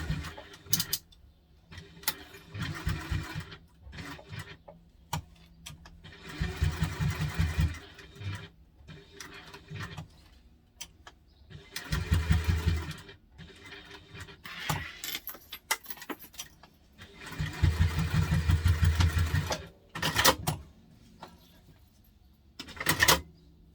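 A sewing machine stitches pieces of a fabric teddy backpack in repeated bursts of rapid mechanical whirring separated by pauses, with faint handling noises between runs.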